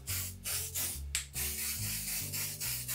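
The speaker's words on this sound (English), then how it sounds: "now this portion I'm going to spray down with a lot of hairspray" Repeated bursts of aerosol hairspray, several short hissing sprays in quick succession, close and fairly loud.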